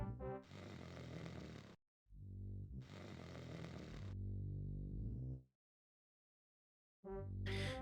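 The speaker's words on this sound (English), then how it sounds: "Yes, you were busy snoring indeed." Guildmaster snoring in the VGA remake of the game Quest for Glory 1, two long loud snores with clear breaths between them and the start of a third at the end.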